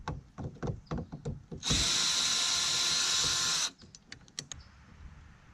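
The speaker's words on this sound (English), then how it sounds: "I'm going to use my drill." A power drill runs in one steady, loud burst of about two seconds while backing bolts out of an RV door lock cover plate, with scattered clicks and handling taps before and after.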